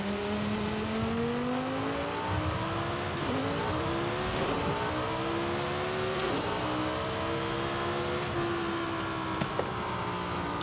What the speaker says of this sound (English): Love the higher pitch on this car.